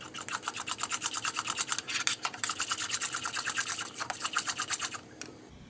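Vegan banana bread batter with baking soda, baking powder and vanilla is stirred in a bowl, making a quick, rhythmic series of scraping strokes that pause briefly midway and stop near the end.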